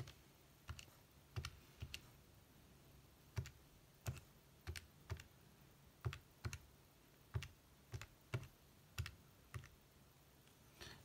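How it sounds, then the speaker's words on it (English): Calculator keys pressed one at a time while entering numbers, about twenty crisp clicks in an uneven rhythm, close and quiet against a faint background hiss. "So I'll just type that in on the calculator."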